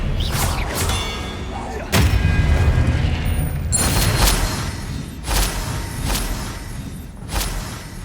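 Spells crack and thud in Hogwarts Legacy combat, with several sharp bursts spaced a second or so apart, one heavy impact near two seconds, and rumbling effects between them.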